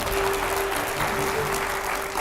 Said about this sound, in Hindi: जोरदार तालियां हो जाए इस पर।